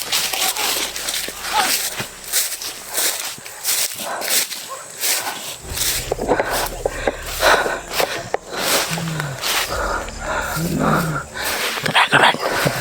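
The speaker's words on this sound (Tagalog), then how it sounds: "May mga aso sila dyan dala." Dogs brought along by a group outdoors growl and bark in scattered bursts, mixed with footsteps and rustling movement and loud broadband noise throughout.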